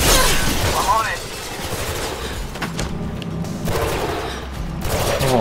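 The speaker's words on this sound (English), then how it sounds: "Oh, you are shooting me a lot." Gunfire rattles through Mirror's Edge Catalyst, with loud bursts of shots and impacts in the first second, then steadier distant firing under game sounds as a player talks over it.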